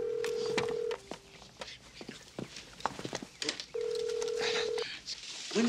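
A telephone is dialed to call an airport. Two long touch-tone beeps sound a few seconds apart, with shuffling, clicks and brief voices in between.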